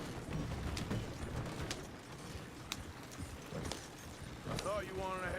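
Horse hooves clop in a rough, irregular patter within a Red Dead Redemption 2 game scene, steady at moderate volume beneath a bed of ambient noise, with a couple of bird-like chirps toward the end.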